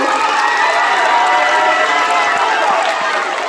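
A school Christmas concert audience applauds and cheers for a birthday boy, a dense, steady wash of clapping and crowd noise close and loud throughout, with scattered shouts and voices mixed in.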